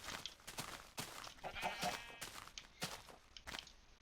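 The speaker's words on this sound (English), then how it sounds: "So look at all these sheep and animals." Blocky sheep in a Minecraft Beta 1.7.3 world give a few short bleats among footsteps and other game sounds, at moderate level with no talking.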